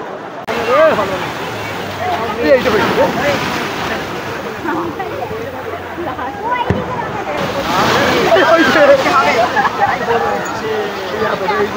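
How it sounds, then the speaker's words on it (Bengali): High-tide waves wash up at Old Digha beach, with sloshing and splashing surf under steady crowd chatter and nearby voices, fairly loud and continuous. "জোয়ার চলে এসেছে, জোয়ারের জল একেবারে রাস্তা অবধি চলে এসেছে।"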